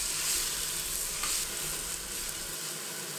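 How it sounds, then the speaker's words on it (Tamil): Finely chopped tomatoes sauté and sizzle in a pan for mushroom biryani, a close, busy frying crackle with faint stirring scrapes, fairly loud and steady, then easing slightly near the end, with no speech. "தக்காளியும் நல்லா மசிஞ்சு வர அளவுக்கு வதக்கிக்கணும்."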